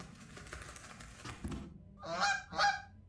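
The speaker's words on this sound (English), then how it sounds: "Is that a goose?" Two loud, nasal goose honks sound close together in the video game Backbone, coming right after a stretch of clattering background noise.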